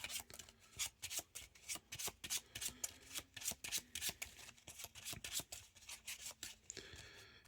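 Playing cards riffled and shuffled into a deck during a tabletop card game, a quick run of crisp, repeated flutters and taps close up, steady and alone.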